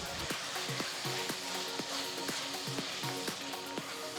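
Finely chopped tomatoes sizzle softly in a pan for egg curry, a steady faint frying hiss with light periodic ticking, no talking.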